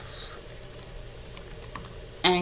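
Typing on a computer keyboard gives a few faint key clicks over a quiet hum, ending in a sudden louder burst of keystrokes.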